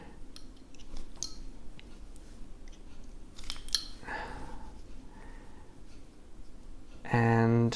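Carving knife paring wood while whittling a smiling dwarf figure, with several short close scraping cuts and small clicks, followed by a voice speaking near the end.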